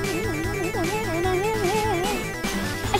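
An acid bass synth plugin plays a squelchy, resonant bassline under busy electronic backing, with wobbling pitch sweeps across a continuous, dense and steady mix and no voice.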